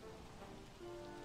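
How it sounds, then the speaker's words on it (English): Rain pours during the frog rain event in Don't Starve Together, a steady dense patter of drops with a faint underlying tone, heard alone in a very brief burst. "It's frog raining."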